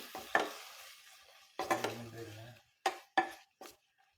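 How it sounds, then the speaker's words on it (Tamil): Cuttlefish hits a hot pan of tomatoes over a high flame for a Sri Lankan cuttlefish curry, giving a short hiss, then quiet gaps broken by a few sharp stirring scrapes and clinks close by. "இந்த ஸ்டேஜில் கொஞ்சம் ஃப்ளேமை ஹையில் வச்சு நாங்கள் மிக்ஸ் பண்ணி வச்சுருந்த கணவாயை இதோட சேர்ப்போம்"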